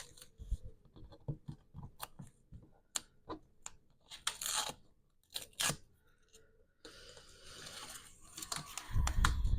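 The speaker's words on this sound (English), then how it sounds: "Let's remove the backing from the tape here." Craft tape backing is peeled and crinkled in a series of sharp, close rustles and tearing snaps, irregular and quiet with pauses between, ending in a denser run of crackling.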